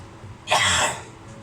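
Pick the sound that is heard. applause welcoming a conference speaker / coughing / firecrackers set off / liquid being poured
coughing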